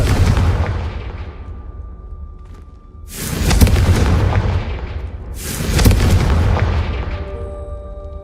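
Two heavy, booming explosions from the Confringo spell in Hogwarts Legacy land a couple of seconds apart, each loud and rumbling before decaying into the game's steady background ambience.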